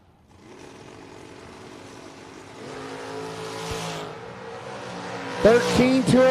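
A dragster and a Nova at a drag race, engines droning and building into a rising roar at a distance, with a high squeal and a sharp burst of revving near the end, under faint crowd or announcer sound.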